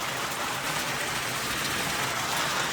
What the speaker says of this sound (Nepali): पानी यस्तो खतरा पानी परेको तपाईँले देख्न सक्नुहुन्छ